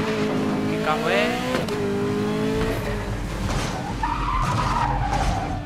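Maserati driven in Need for Speed: Most Wanted, engine roar and tire skids sustained throughout, loud and close, with someone talking over the game sounds.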